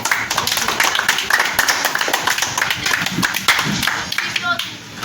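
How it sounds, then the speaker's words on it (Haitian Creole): A church congregation claps together in a steady, quick rhythm, loud and close, with voices calling out over the clapping. "On applaudit."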